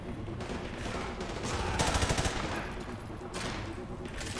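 Gunfire from Call of Duty: Modern Warfare 2 Remastered, with dense bursts of rapid shots running throughout and a louder cluster near the middle, set against a busy battlefield background.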